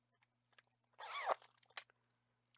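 Plastic zipper on a crafting supply pouch drawn open in one quick close rasp lasting about half a second, followed by soft handling rustles and light taps nearby.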